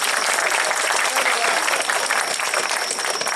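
Crowd at a rain-soaked Shinto shrine festival in a typhoon claps and cheers after the portable shrine procession, a loud, continuous wash of applause and voices with no pauses.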